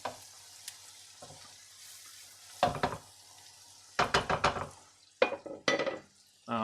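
Food frying in a pan on a home stove, a soft steady sizzle broken by several sharp bursts of scraping and stirring, close and loud, with no voices.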